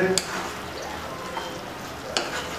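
Prawn chilli is fried and mixed in a pan, with a steady close sizzle, a couple of brief utensil clinks and a faint voice in the background.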